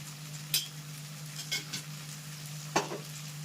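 Spices fry gently in a pan over low gas, with a soft steady sizzle, a constant low hum, and a few sharp spoon scrapes as the mixture is stirred.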